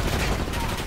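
A sniper rifle, an LR 7.62, fires in Call of Duty Black Ops 6: one loud, dense gunshot with a rolling tail across under a second, nothing else standing out.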